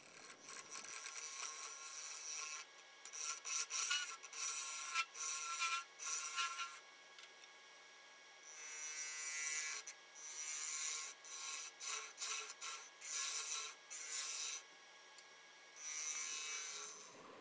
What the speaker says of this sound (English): So sanded and hollowed out